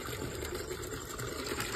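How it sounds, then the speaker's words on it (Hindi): Fresh water gushing and splashing as it is poured for a cow to drink in hot weather, a steady pouring rush throughout with no talk. "गाय को पानी पियाना है और ताजा पानी पिया रहे हैं"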